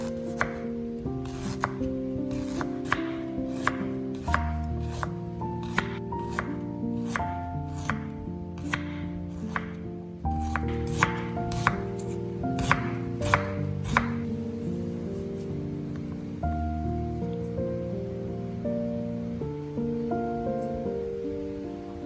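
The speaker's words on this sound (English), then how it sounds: "Therefore, slicing it thinly will help the blender crush the ginger easily" A knife thinly slices ginger against a cutting board, sharp crisp taps in an uneven rhythm, close and clear, with no talking.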